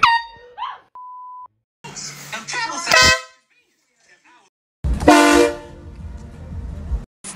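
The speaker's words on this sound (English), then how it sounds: "the air horn pranks" Sudden blaring air horn blasts from pranks burst out amid shouts and startled voices, with a short electronic beep early on and a loud, long blast later.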